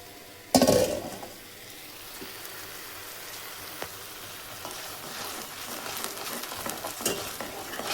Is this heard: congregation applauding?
no